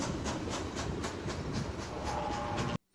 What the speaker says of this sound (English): But that was the end of the train right there.